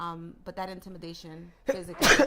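A loud, sharp sneeze bursts out near the end, right after a man's speech, close and sudden against the quieter talk before it.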